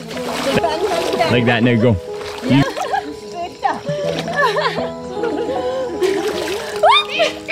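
Water splashes and sloshes repeatedly in a pool or stream as people dunk into it, with children and adults talking and shouting over the bursts of splashing.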